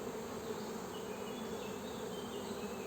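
Dense, steady buzzing of honeybees crowded on a fully laid brood frame in a beehive, a continuous close hum with no pauses or voices.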